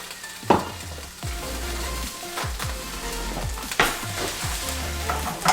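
Onions hiss and sizzle in a hot frying pan, with a few sharp bursts where a splash of water or stirring flares the crackle, steady and close.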